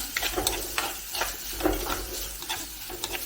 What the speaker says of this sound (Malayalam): അരിഞ്ഞു വെച്ചിരുന്ന ഇഞ്ചി പിന്നെ വെളുത്തുള്ളി ചേർത്ത് അതുകൂടെ ഒന്ന് വഴറ്റിയെടുക്കണം